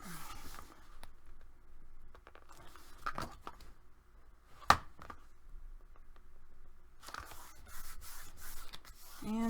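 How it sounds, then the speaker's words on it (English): Paper being burnished flat onto a mini album page during crafting: intermittent close rubbing and scraping strokes in short bursts, with a sharp tap midway and busier rubbing toward the end, no talk. "And just burnish it real well so it adhered."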